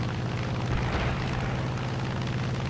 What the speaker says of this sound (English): fires off a tremendous volley of fire as a salute to ShyGuy for a job well done